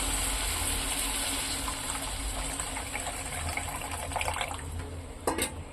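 Tamarind juice poured from a bowl into a simmering dried-fish curry; a continuous watery pouring and gushing sound, fairly close, ending with a few clinks and scrapes of the bowl against the pot.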